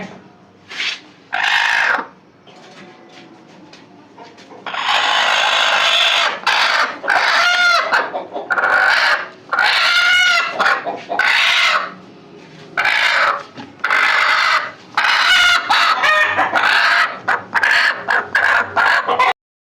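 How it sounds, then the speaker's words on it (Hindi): A hen clucks loudly and repeatedly in short, uneven bursts, close by, with brief pauses between the calls. "ये है मुर्गी"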